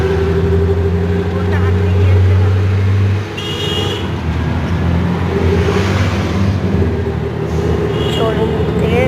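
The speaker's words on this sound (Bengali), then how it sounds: "টোটোতে বসে আছি," Riding in a toto electric rickshaw, with a steady road rumble and passing traffic around, a car horn tooting faintly now and then.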